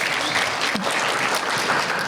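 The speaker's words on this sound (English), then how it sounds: "Will you guys give me a round of applause?" Loud, steady applause fills the hall as an audience at a community event claps continuously, dense and sustained from start to finish with a brief cheer near the beginning.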